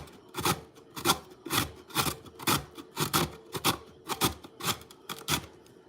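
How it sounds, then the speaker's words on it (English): Rhythmic raspy scraping of carrots being grated, about a dozen crisp strokes at a steady pace, close and clear with no talking. "It's such a satisfying sound, I think, grating carrots."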